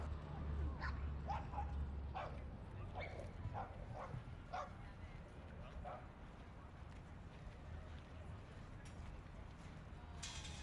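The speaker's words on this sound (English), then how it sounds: "Here is Madison Square Park's dog run." Dogs barking and yipping in a city park dog run at Madison Square Park in New York, several short barks over the first few seconds heard at a distance beneath steady outdoor ambience.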